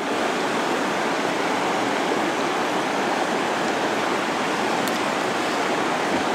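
A river stream flowing, its rushing water forming a loud, constant, unbroken roar that fills the whole stretch with nothing else heard.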